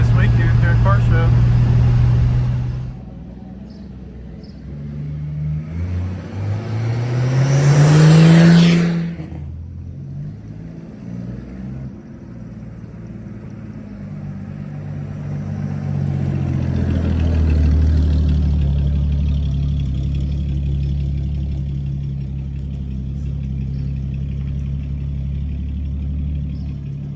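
A turbocharged Chevrolet Nova with a new exhaust and one-inch lowering blocks drives past, its engine rising in a loud rev and then settling into a steady low drone.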